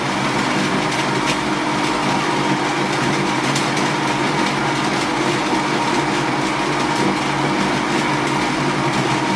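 La Seine X espresso machine's built-in grinder grinding coffee on its automatic setting, a steady, loud, unbroken whir that runs close to the microphone throughout.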